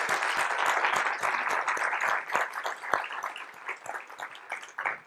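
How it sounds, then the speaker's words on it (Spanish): Audience at a seminar on responsible artificial intelligence applauds a presenter, a moderately loud burst of many hands clapping that thins out slightly over a few seconds. "Le pido un aplauso a nuestra expositora."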